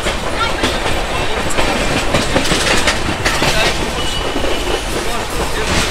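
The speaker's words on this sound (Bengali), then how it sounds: "আমাদের ট্রেন বেরিয়ে গেল উলুবেড়িয়া রেল স্টেশন" The Kandari Express runs through Uluberia station, its wheels clattering steadily and loudly from close by, with the rumble of the carriages continuous throughout and no pause.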